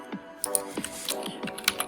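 Quick bursts of keystrokes on a computer keyboard during a video game speedrun, about a dozen close, irregular clicks and taps in under two seconds.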